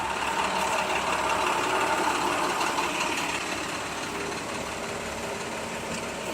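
Engine of a 1996 Ford Mustang with a failed lower ball joint idling steadily as the car backs up, a constant mid-loud rumble with no talk over it.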